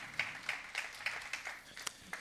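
Audience applause at an eCommerce sellers' conference, a quiet, brief patter of clapping with distinct individual claps standing out, fairly distant and soft.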